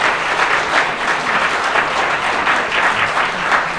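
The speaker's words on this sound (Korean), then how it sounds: "큰 박수 부탁드리겠습니다." Wedding guests at a wedding hall applaud as the bride and groom bow to each other, a loud, close, continuous patter of clapping with no pause across the moment.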